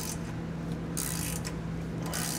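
Ratchet turning a bolt that cuts threads into a 2019 vehicle frame while rear air helper springs are fitted, with a steady grinding hum and bursts of clicking ratchet strokes, close and without talk.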